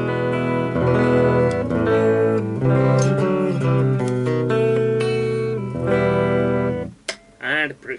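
Clean tone from a Jackson electric guitar on the bridge pickup, a run of picked single notes and chords ringing clearly and loudly, ending with a short spoken remark.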